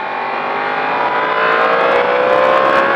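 A race car on the Magny-Cours track accelerates hard, its engine note climbing steadily in a loud, close, continuous whine.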